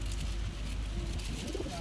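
A pigeon coos softly, close by, under a steady hum of background noise.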